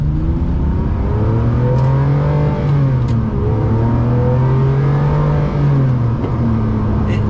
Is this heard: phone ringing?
no